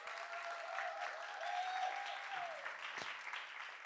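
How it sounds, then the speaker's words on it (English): Audience applause at a civic transit equity event, a steady, moderately distant wash of clapping with a whistle rising over it and a short sharp sound near the end. "Let's give them a round of applause."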